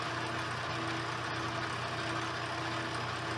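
A 70-year-old metal lathe running at about 500 RPM with slow feed, a steady continuous machine hum with constant tonal whine, close and fairly loud, no speech.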